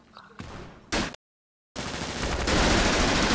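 Sharp bursts of SMG gunfire ring out in a video game shootout, followed by a brief dead silence and then a dense, loud wash of firing and noise.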